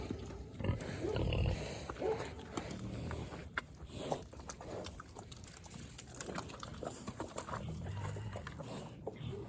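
Sows on a muddy winter farm at feeding time, with grunts and squeals mixed with clattering and splashy movement at moderate distance, fairly quiet throughout.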